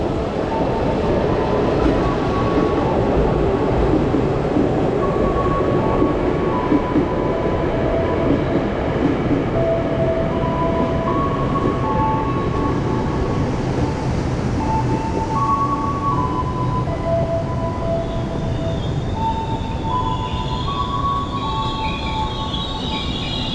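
Commuter train at Sudirman station in Jakarta, a steady loud rumble of the carriages with rail clatter and brief wheel squeals and tones throughout, no talking.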